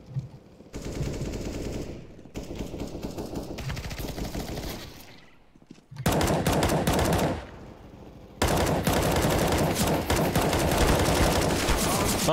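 Automatic weapon fire in a first-person shooter game, loud bursts of rapid shots in long sustained volleys with brief gaps, dense and close, with faint voices underneath.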